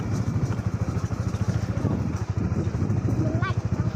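A motorcycle engine runs steadily at close range with a rough, pulsing idle, partly under a voice speaking.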